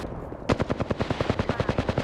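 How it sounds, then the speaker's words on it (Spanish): Automatic gunfire from the video game Apex Legends: a sudden, loud, rapid string of evenly spaced shots bursts in after a quiet moment and keeps firing steadily to the end. "Sí, está disparando"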